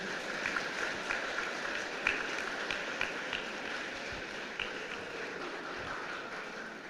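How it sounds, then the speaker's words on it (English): Steady, sustained applause from an audience at a student flagship event, a dense even wash of clapping heard alone at moderate distance. "one more round of applause for all of them"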